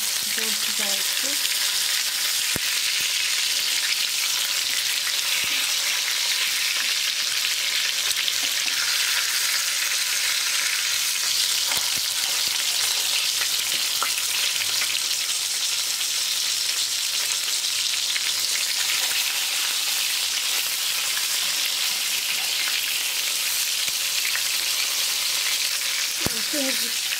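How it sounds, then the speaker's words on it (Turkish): Steady, close sizzling and crackling of chicken frying in a pan, a dense hiss throughout with occasional faint pops and scrapes. "Diğerlerini de kızartıyorum."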